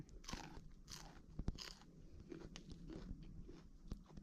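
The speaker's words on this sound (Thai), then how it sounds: "หวานกรอบ กินสดสด" Fresh raw snow peas are crunched, bitten and chewed close to the microphone, a series of crisp snaps and moist chewing sounds spread across several seconds, quiet and unaccompanied by talk.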